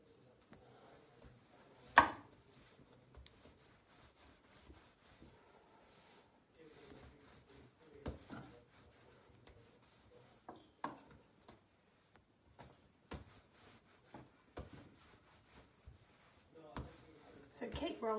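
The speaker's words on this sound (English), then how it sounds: "we're going to flour our board and we're going to roll it out until it is 1/2 inch thick" A rolling pin works pudding dough across a floured wooden board, with soft rubbing and occasional sharp knocks, quiet and close, while someone talks over it.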